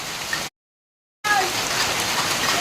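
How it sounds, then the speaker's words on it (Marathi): A steady downpour of heavy unseasonal rain hisses continuously, briefly cutting to silence before the loud rush resumes. "पावसाळ्यात एवढा पाऊस पडत नाही तेवढं पाणी"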